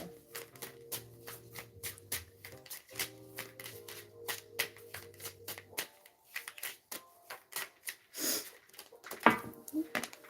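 Tarot cards shuffle in quick, close riffles during a live reading, with soft sustained tones droning beneath the first half before the shuffling continues alone and grows louder toward the end.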